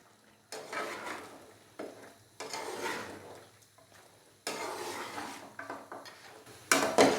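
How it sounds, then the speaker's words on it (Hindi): Spoon stirring beef karahi with tomatoes and red chili powder in a pot, several scraping, sizzling strokes in bursts with short pauses, close and moderately loud, ending with a sharper clatter. "अच्छे से हम इसको मिक्स करेंगे।"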